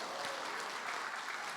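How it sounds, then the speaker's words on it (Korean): A church congregation applauds at a testimony service, a brief, even burst of many hands clapping together at moderate volume. "30명 박수 치고,"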